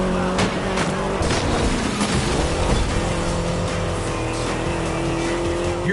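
A Mini Cooper S races through a video game stunt scene, its engine droning steadily and loudly throughout with revving pitch shifts and brief tire squeals.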